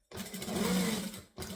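Sewing machine stitching a bag lining, a close whirring run of about a second that stops briefly and then starts again.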